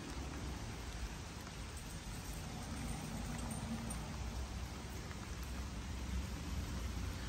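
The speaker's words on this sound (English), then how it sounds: "it's been raining nonstop since I paused the video yesterday" Steady rain falls on a garden with a rose bed, a constant soft hiss of drops with no breaks, no voices and no other sounds over it.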